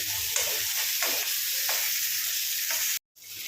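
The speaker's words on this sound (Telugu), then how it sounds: "ఉల్లిపాయలను అయితే మంచిగా ఫ్రై చేసుకోండి" Onions fry in a pan, giving a continuous bright sizzle with several scraping stirs spaced through it, then a brief cutoff near the end before the sizzle resumes.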